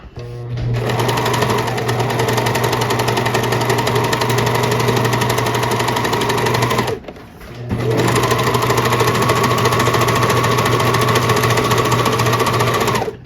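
A serger sewing machine stitches with loosened thread tension, a loud, steady rapid mechanical hum and clatter running continuously, dropping out briefly midway before resuming, with no talk over it.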